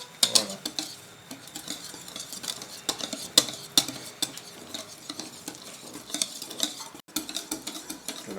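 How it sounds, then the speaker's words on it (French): Creamy cake batter is mixed gently in a bowl, giving soft, irregular wet scraping and light taps of a utensil against the bowl, close by and unhurried. "je continue de mélanger"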